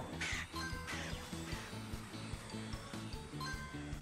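Cartoon crows caw repeatedly over bouncy background music in a Paw Patrol video game, the harsh calls popping out near and fairly loud at irregular moments while the tune keeps a steady rhythm.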